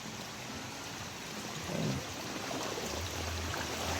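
A creek swollen by flooding after Typhoon Crising in Occidental Mindoro rushes past as a steady, dense wash of water noise, moderately close and unbroken, with no voices.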